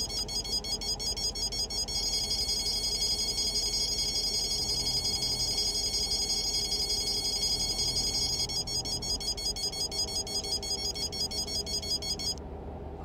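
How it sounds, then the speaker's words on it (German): Radar detector warning in Euro Truck Simulator 2 while approaching a speed camera: a rapid electronic beeping alarm repeating steadily for about twelve seconds, pausing briefly then resuming, over a low truck engine drone before cutting off. "sobald ihr in so einer Radarkontrolle immer näher kommt, fängt das Ding an zu vibrieren"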